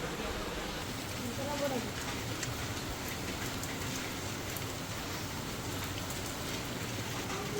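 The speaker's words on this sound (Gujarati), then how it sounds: "વરસાદ જામી પડ્યો છે" Heavy rain pouring at night around 10:30 in a Gujarat village, a steady dense hiss of drops hitting surfaces, continuous and fairly even in loudness.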